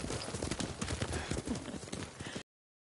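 A horse trots under its rider in Ghost of Tsushima, giving a close, brisk clip-clop of hooves in a rapid, even rhythm for a couple of seconds before the sound cuts off.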